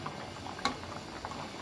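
Vegetables simmering in a covered pot for a rohu fish curry, a soft steady bubbling with one brief clink partway through.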